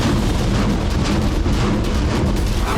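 Missile strike explosions in Ukraine war footage rumble as a dense, loud, continuous roar of booming blasts and debris noise.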